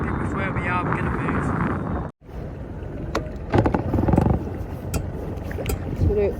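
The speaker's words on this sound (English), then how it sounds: "That wind is coming really hard behind." Strong wind roars and buffets over a fishing boat on open water, a steady rushing noise broken by a brief dropout, with someone talking over it.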